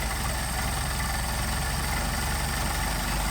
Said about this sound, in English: you'll be able to hear me raising the idle right here